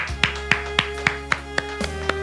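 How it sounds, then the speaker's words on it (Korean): A church congregation at a Wednesday worship service claps together in thanks, about eight sharp, evenly spaced unison claps in a steady rhythm, with a sustained low organ or keyboard tone beneath. "우리 하나님께 감사의 박수 올리겠습니다"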